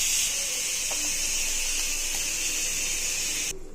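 Ground coconut paste poured into bubbling oil with softened onions for a tomato kurma gives a loud, steady, close sizzle that cuts off abruptly near the end.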